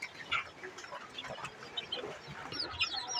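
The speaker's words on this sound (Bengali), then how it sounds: "এই যে এইখানে আছে আমার মুরগির বাচ্চা, এগুলোর সাথে এই যে একটি ছোট কোয়েল পাখির বাচ্চা আছে।" Young chicken chicks kept together with a small quail chick, giving soft, scattered peeps and cheeps close by with light background noise, with some brighter calls near the end.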